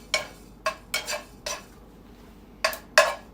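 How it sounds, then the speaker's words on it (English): A metal spoon scrapes and clinks against a pan of toasting sesame seeds in six separate, sharp strokes, a couple close together, with a quiet gap in the middle and no talking. "I do need to be stirring these sesame seeds. Maybe I shouldn't do it with a metal spoon."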